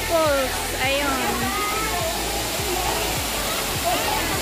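A waterfall at a stream in Tung Chung, Hong Kong, roars as a steady, loud broadband wash, with voices of people, including children, talking and playing over it throughout.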